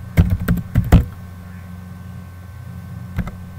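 A computer keyboard rattles with a quick burst of close, crisp keystrokes, a pause of quiet room tone, then one more short tap cluster near the end.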